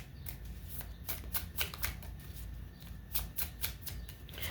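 Clarity cards are shuffled close by in quick, crisp riffling bursts that repeat in an uneven rhythm, soft and papery, with no one talking.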